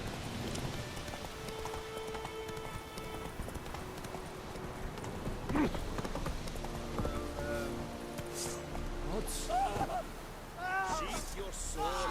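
Roach the horse from The Witcher 3 trots with a steady clip-clop of hooves in the game, under light rain-like ambience and other in-game sounds, with a brief voice partway through.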